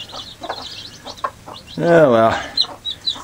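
A mother hen with about 14 newly hatched chicks: high chick peeps patter throughout while one drawn-out, wavering cry from a bird rises in the middle, close by, with someone speaking briefly.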